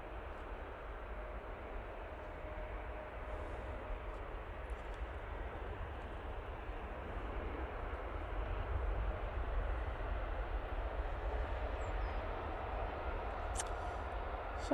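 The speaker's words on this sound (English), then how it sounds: "Turkish A321 Neo now coming in from Istanbul" A Turkish Airlines Airbus A321neo arriving from Istanbul at Manchester Airport, heard as a steady distant jet rumble that slowly grows louder with no talk over it.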